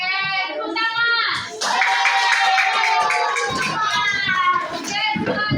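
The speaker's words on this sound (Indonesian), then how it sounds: "Oke, tepuk tangan." A class of schoolchildren claps hands together in a lively burst of rapid applause, mixed with children's voices and shouting throughout.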